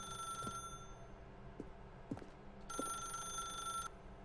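A telephone rings in The Stanley Parable game, a thin electronic trill that stops and then returns over a low steady room hum, with soft incidental knocks and no voices.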